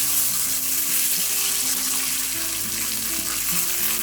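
Mustard seeds and curry leaves sputter and sizzle in hot coconut oil for tempering avial, a bright, continuous frying hiss with small popping crackles, close and loud.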